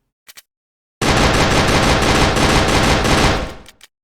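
Dual pistols fire in a homemade Unity video game: two quick, loud shots, a short gap, then a dense, rapid-fire burst lasting a couple of seconds that cuts off sharply, followed by one last short crack.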